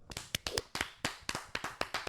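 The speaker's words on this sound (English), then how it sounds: "can we clap it up real quick?" A small group claps in quick, uneven bursts, close and fairly quiet, with sharp hand slaps in a loose rhythm.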